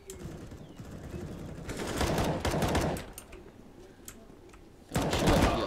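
Gunfire in the video game CS:GO, bursts of rapid automatic shots and scattered single cracks over a busy game-noise bed, with a loud volley near the end.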